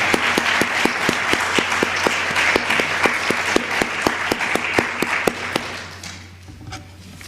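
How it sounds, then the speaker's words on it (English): Congregation at a church advent service claps in response, a sustained round of applause with sharp individual claps standing out, fading toward the end. "why don't we give everybody a round of applause right now"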